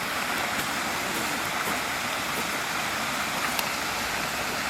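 Small waterfall beside Bunbury Mill, a steady broadband rush of falling water heard close and loud throughout, with no voices.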